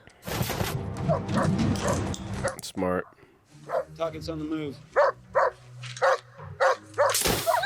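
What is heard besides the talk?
dog barking in the movie The Incredible Hulk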